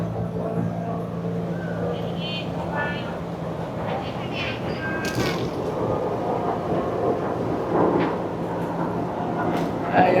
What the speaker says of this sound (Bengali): এখান থেকে ট্রেনও যায় দেখা যাচ্ছে,